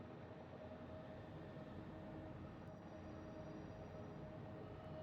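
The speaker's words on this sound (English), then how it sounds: "it looks like the train's coming back around" A video game train rumbles past at a steady low roar, faint and continuous, with a thin high tone running through it.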